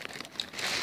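A large plastic bag from a package holding a big Hello Kitty squishy crinkles and rustles as hands handle it, a brief close crackling that swells louder toward the end.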